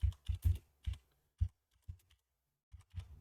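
Computer keyboard typing comes in short irregular bursts of sharp clicks, close and fairly quiet, with brief pauses between clusters of keystrokes.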